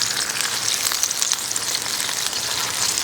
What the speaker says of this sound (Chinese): 把这个洗好的菜啊下锅，你看，翠绿的小白菜呀。